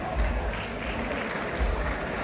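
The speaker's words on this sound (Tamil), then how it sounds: "உங்கள் கரகோஷங்களை கொடுங்கள்" Steady audience applause at a community cultural evening held by the Analaitivu cultural union, a continuous wash of clapping from a sizeable crowd at even volume.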